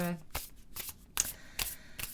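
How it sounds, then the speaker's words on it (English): Oracle cards are shuffled by hand in several quick, crisp riffling bursts, close and fairly loud, with a faint voice at the very start. "Let's shuffle them a little bit first, shall we?"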